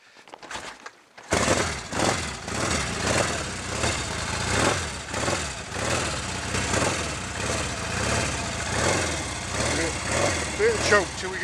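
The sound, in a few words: Royal Enfield Interceptor 750 motorcycle engine running on choke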